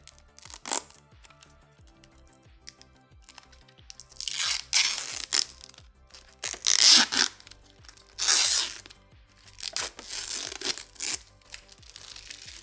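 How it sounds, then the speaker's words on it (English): Protective plastic film being peeled off a Sapphire Nitro+ RX 6650 XT graphics card, close and crisp, in several separate tearing, crinkling pulls of varying length with quiet gaps between, no talking. "Let's peel the plastic."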